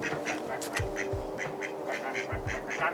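A person imitating a duck, giving a series of nasal quacking calls in quick succession, close and moderately loud, with low background noise.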